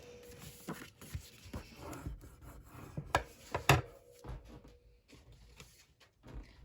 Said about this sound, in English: Okay, and then go ahead and burnish that.